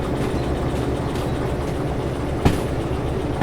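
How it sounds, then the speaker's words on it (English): A train rolls steadily along the rails in the Derail Valley railway game, a continuous loud rumble with one sharp clank partway through. "Oh, the train's over there."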